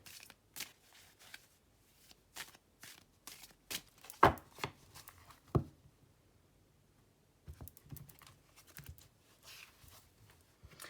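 Tarot cards are shuffled by hand in soft, quiet bursts of flicking and tapping, with a short pause in the middle before the shuffling resumes.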